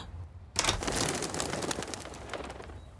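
Pigeons coo in an animated cartoon scene, a soft burbling call set against a dense, hissy wash of background noise with no one talking.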